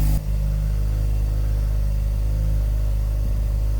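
A Mazda RX-7 Turbo II rotary engine runs steadily at a loud, even idle with a smooth buzzing hum, briefly cut at the very start, with no voices.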